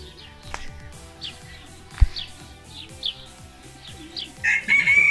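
Chickens and a rooster in a coop on a small farm, with repeated clucks, chirps and a crow near the end, heard close and fairly quiet with no talk over them.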